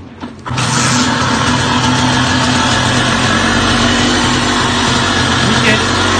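A 125 TC motorcycle engine fires up for the first time after a piston replacement, a short crank then a sudden steady, loud running roar that continues evenly to the end, with no voices.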